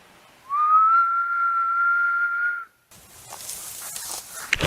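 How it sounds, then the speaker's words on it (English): A person whistles one long, steady, slightly rising tone outdoors in the woods of the Appalachian Trail, close and clear, then it stops and quiet rustling forest ambience follows. "I'm gonna try whistling back, see what happens."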